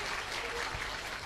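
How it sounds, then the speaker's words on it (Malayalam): A brief burst of audience applause at an inauguration ceremony, faint, with even clapping for just over a second. "ഒരു നല്ല കൈയടി കൊടുത്താട്ടെ"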